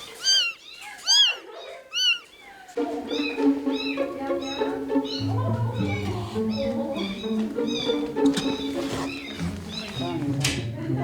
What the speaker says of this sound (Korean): 태어난 지 얼마 안 된 고양이거든요.